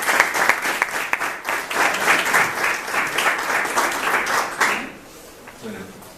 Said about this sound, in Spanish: Así que muchas gracias, un aplauso para...